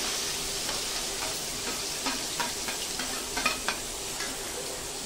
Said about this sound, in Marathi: कांदा मस्तपैकी परतून घ्यायचा